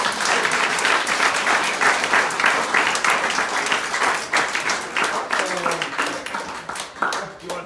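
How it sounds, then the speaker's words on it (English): A roast event audience breaks into a sustained round of applause, dense clapping that holds steady and loud throughout with cheering and voices mixed into the crowd noise. "let's all give a round of applause."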